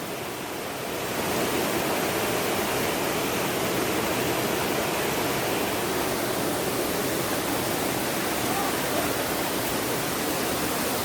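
Kothapalli waterfall in Andhra Pradesh roars steadily as a dense, even broadband rush of falling water, loud and continuous with no voices.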